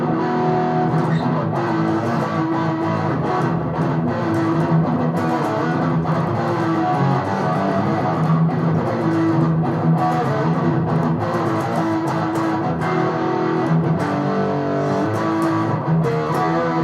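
An electric guitar built from a Stratocaster kit, played loud through distortion, with sustained chords ringing continuously and steadily.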